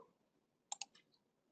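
Two quick, crisp computer mouse clicks close together, followed by a softer third tick, isolated against a quiet background with no talking.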